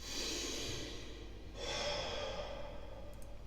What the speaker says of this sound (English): just a little breathing effect that you hear over here